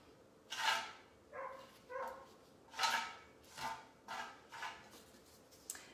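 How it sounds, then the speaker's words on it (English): A neighbor's dog barks outdoors at a distance, about seven separate woofs spaced irregularly, faint and somewhat muffled against quiet background. "And normally I would claim that barking as my own, but that's the neighbor's dog."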